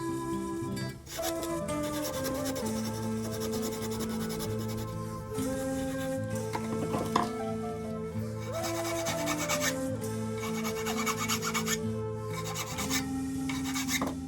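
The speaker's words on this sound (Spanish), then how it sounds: "es recomendable usar una lija de grano de 240" Steady rasping of 240-grit sandpaper rubbed back and forth against bamboo, shaping the bevel of a quena flute, close and continuous with brief pauses, no voices.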